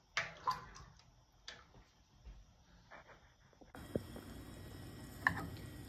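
Water is poured into a pot of chicken for soup, a faint splashing pour that settles into a steadier rush, close and quiet, with a few small clinks.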